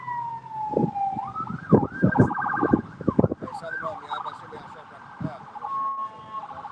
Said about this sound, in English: all these sirens, chaos.